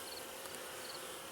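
Honeybees buzz steadily around a struggling beehive, a dense insect hum that fills the clip at a constant level with no voices.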